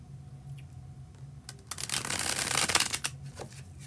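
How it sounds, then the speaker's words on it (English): A deck of playing cards gets a bridge shuffle up close: soft handling, then a fast riffling flutter that swells and settles, with no talking over it. "That is the bridge shuffle."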